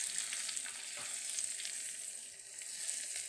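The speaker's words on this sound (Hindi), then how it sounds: "अब हम इसको तड़का लगाएंगे ज़ीरे का" Steady, continuous sizzle and crackle of cumin seeds frying in hot oil for a tempering on mash dal, close up, with faint stirring and no voices.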